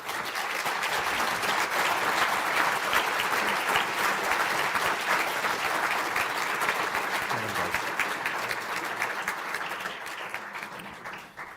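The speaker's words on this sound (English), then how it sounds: "stand up for a well-deserved round of applause" Graduates and audience give a sustained round of applause at the ATU Galway spring conferring ceremony, dense clapping filling the hall for about ten seconds before thinning out at the end.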